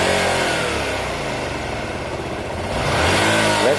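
A Honda Varadero 125 motorcycle engine runs steadily close by during carburettor air-screw tuning, a continuous mid-pitched drone whose revs rise slightly toward the end.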